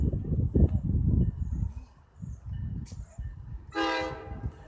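A train at Raritan gives one short, bright horn blast from its engineer, heard over a low rumbling background and some nearby handling noise.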